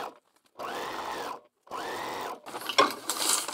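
A sewing machine stitches a fabric string block in two steady bursts of about a second each, with a pause between, followed by rustling and handling of thick fabric.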